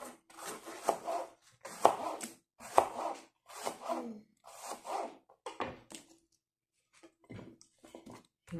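Vegetables chopped on a wooden board with a knife in a steady run of firm, evenly spaced cuts, close and clear, pausing briefly before a few lighter strokes at the end.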